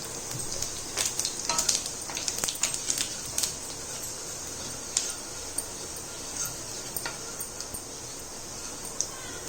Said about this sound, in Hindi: हींग भून गई हमारी, अब इसमें जीरा डाल देते हैं।